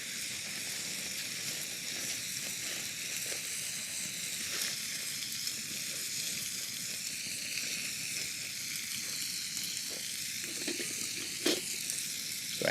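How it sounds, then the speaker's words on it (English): Bacon sizzling over a campfire at a 1920s-style camp, a steady close crackle and hiss with occasional sharper pops, running on without talking. "I'm going to put that on the fire. Let that start cooking up."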